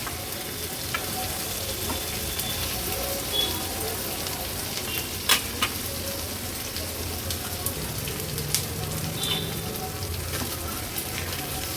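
Fish khengat sizzles and fries steadily in a pan for an Agri Koli–style fish thali, a continuous close crackling hiss with scattered sharper pops and faint clinks, no talking.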